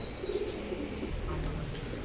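Oman teddy pigeons coo softly in low, rolling calls, faint and close, with some quiet background noise.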